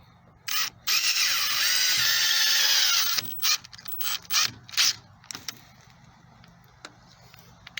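A power driver tightens a screw with a driver bit, whirring loudly for a few seconds, then giving several short ratcheting bursts as the screw seats, close by.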